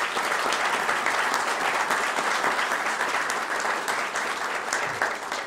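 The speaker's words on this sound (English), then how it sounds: "give them all a round of applause if you would" Sustained applause from the audience at a veterans recognition breakfast, honouring veteran service agents and officers; dense, even clapping from a large room that holds steady throughout.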